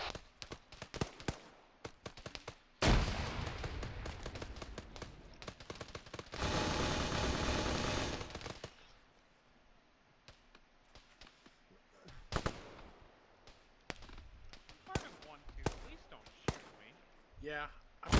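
Gunfire crackles in short bursts, with a long dense roar around three seconds and another near seven seconds consistent with a frag grenade blast, during an airsoft or milsim drone operation while players talk over radio.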